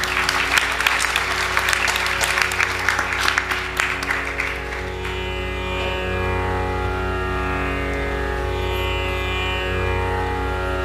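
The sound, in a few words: applause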